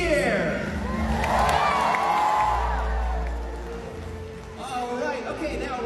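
A stadium crowd at an orca show cheers and whoops in a swelling roar, with an amplified announcer's voice over the top, fading then rising again.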